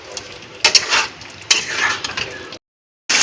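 Potato and pointed gourd curry with sugar and garam masala is stir-fried in a pan, with close scraping stir strokes over a soft sizzle, then a brief silence before the stirring resumes.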